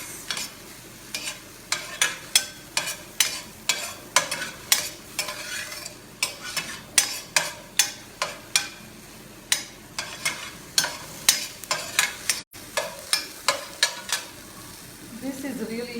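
Food sautéing in a pan for spinach enchiladas while being stirred, with a steady close sizzle broken by repeated scraping and stirring strokes about every half second, and no talking.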